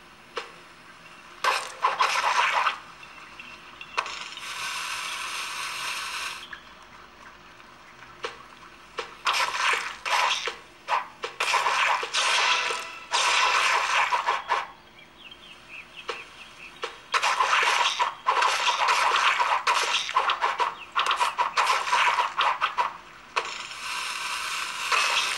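Fruit Ninja game audio playing on a Samsung Galaxy Music Duos GT-S6012 phone, with repeated bright bursts of slicing and splatter effects in quick clusters separated by short quiet gaps, no talking.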